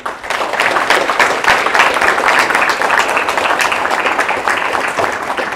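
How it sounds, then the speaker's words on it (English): An audience applauds a Holocaust survivor after her talk, a loud sustained round of many hands clapping with an even, continuous patter from start to finish. "let's give a big round of applause to Sonja"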